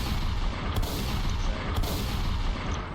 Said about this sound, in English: So hold the trigger, it shoots the bullet and plays the animation